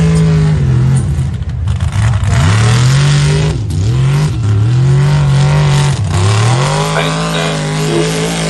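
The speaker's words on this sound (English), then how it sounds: "When the truck came in the bottom, man, it kind of hiccuped and then it really slowed the momentum down" A truck at a mud hop course revs hard and loud, its engine pitch rising and dipping repeatedly in surging waves as it powers through, with a brief stumble mid-run.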